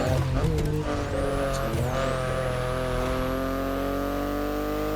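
BMW i8 in The Crew Motorfest with a loud, steady engine drone that climbs in pitch as it accelerates. A short whistle-like tire squeal rises and falls near the start, and there is no talk.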